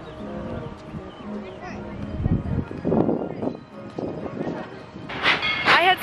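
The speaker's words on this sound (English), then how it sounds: "you can right now hear the Tweetsie train pulling out of the station" The Tweetsie Railroad train pulls out of the station with a steady rumble and clatter that swells midway, then a whistle-like rising tone near the end, heard up close alongside voices nearby.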